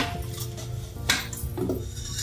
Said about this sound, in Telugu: ఇప్పుడు కుక్కర్ ఓపెన్ చేసి చూద్దాం.